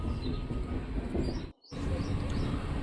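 MEMU train running just past Bangalore Cantonment, a constant loud rolling rumble with a brief sudden dropout midway before the noise resumes.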